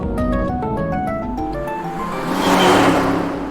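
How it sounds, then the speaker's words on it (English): Car ride in the video game AI: The Somnium Files, a motor humming with tonal engine notes that shift and fade, then a rising whooshing surge of road or wind noise, loud and close with no speech. "Longest car ride ever."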